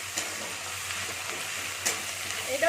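A ground paste of garlic, ginger and cumin fries with browned onion in a pan, giving a soft, even sizzle with a couple of brief stirring scrapes near the end.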